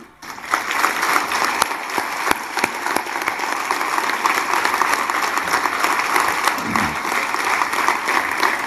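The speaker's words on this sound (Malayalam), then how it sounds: "എല്ലാവരെയും നന്ദിയുള്ളവരാകാൻ വേണ്ടി ഒരു നല്ല കയ്യടി മാക്സിമം" Audience at a Christian church convention in Kottarakkara claps steadily and loudly, a dense wash of applause sustained throughout with a few sharper individual claps standing out.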